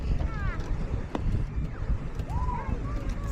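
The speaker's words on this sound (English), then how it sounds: "It's windy here." Strong mountain wind buffets the microphone in a steady low roar, with people talking over it throughout.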